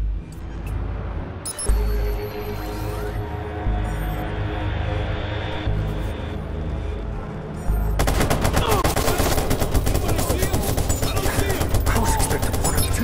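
Camera-mounted guns fire bursts of rapid gunfire in the Watch Dogs Bad Blood game. Loud, dense automatic fire fills the second half after sparser shots and engine hum earlier.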